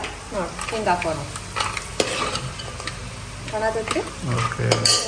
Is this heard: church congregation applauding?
no